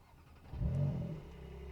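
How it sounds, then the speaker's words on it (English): A 2025 Porsche 911 Carrera cold start: the engine cranks and catches, rising into a brief rev before settling into a steady idle rumble. "Cold starting the Carrera"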